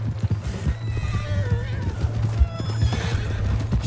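Horse in Red Dead Redemption 2 giving a shrill neigh and whinny over clip-clopping hooves, with a steady low game hum and raised voices shouting nearby.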